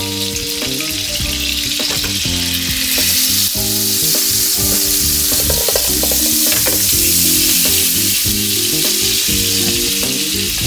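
Four tablespoons of butter sizzle in a hot pan for curry shrimp pasta, a loud continuous hiss and crackle lasting throughout, with rhythmic music playing underneath.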